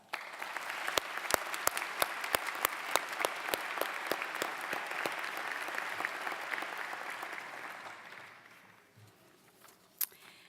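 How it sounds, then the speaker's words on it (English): A large high school commencement crowd for the Class of 2009 applauds steadily and loudly for about eight seconds, the clapping then tapering off to a faint patter before a last few scattered claps. "I think that deserves a round of applause"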